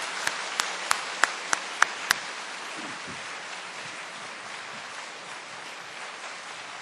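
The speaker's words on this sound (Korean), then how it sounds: "우리 장로님 박수로 좀 맞이하실까요?" Audience applause at a church new-life festival gathering as an elder is welcomed for praise and testimony: a burst of sharp claps at the start over steady diffuse clapping, moderately loud, continuing alone.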